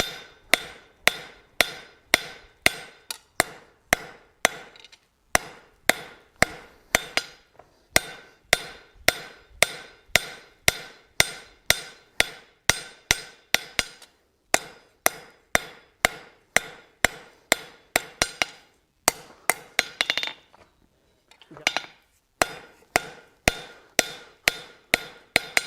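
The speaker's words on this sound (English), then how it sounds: "we're going to lay it on the anvil. We're going to use half on, half off blows." Steel being forged into a ram's head on an anvil takes a long series of sharp, ringing hammer blows in a steady rhythm, close and loud, with a few brief pauses between bursts.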